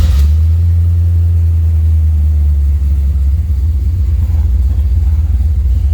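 A 1976 Chevrolet Corvette coupe's V8 engine idles with a deep, steady rumble, loud and close, holding a constant throb with slight rises in pitch.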